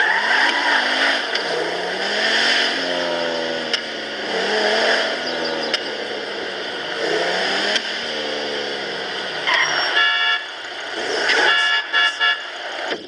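A video game car accelerates and skids, its engine note rising and falling through repeated gear sweeps with squealing tires and brief horn-like tones, loud and continuous with no talking.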